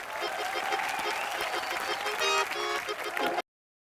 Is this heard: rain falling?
no